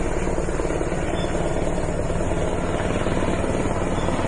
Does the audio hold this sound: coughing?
no